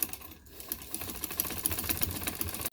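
A sewing machine runs steadily, stitching lace onto the corner of a dupatta, its rapid needle clatter continuous and close throughout, with a brief dip near the start.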